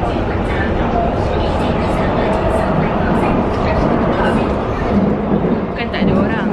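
A metro train rolls toward Hong Kong Disneyland in a loud, steady rumble, with rattling carriage noise throughout and a voice talking over it.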